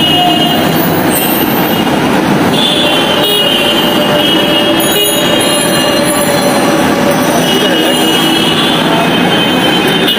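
A train passes close by near the Malibagh flyover in Dhaka, a loud continuous rumble of rolling railcars with squealing wheels and a brief horn toot, all under steady city traffic.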